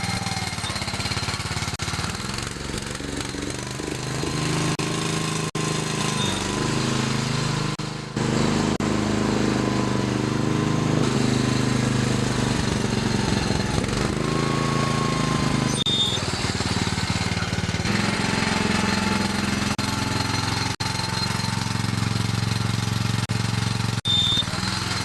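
Gravely tractor with a 16HP Briggs & Stratton engine running steadily throughout, loud and close with a rough, continuous drone that dips briefly once, no talking.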